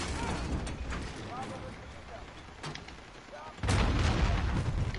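Grenade explosions in the video game Call of Duty Modern Warfare: a sharp blast near the middle and a louder, denser burst toward the end over scattered gunfire and game noise.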